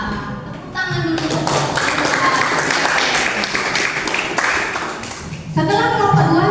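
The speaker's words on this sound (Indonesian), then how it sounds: "kelompok 2. Tepuk tangan dulu." Classroom applause for presentation group 2: a dense, loud burst of clapping from many hands lasting several seconds, with a teacher's voice briefly before and after.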